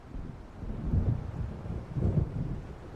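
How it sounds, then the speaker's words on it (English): Low storm thunder rolls in the video game Alan Wake Remastered, with two deep swells about a second apart under a bed of rain and wind, moderately distant and without any voices. "It seems there's a storm coming."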